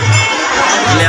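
A dense festival crowd at Rath Yatra near a temple, loud and close, with many voices chattering and shouting together in a continuous roar.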